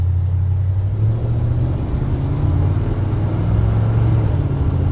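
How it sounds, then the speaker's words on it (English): A 1969 GMC C10 pickup with a 350 V8 and automatic transmission accelerating on a test drive, a loud, steady low engine rumble and drone heard from inside the cab throughout. "A little bit heavier in the throttle there. Great performance, good acceleration."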